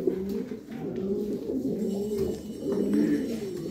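Racing pigeons coo steadily in a low, throaty, continuous murmur, several birds overlapping close by with no talk.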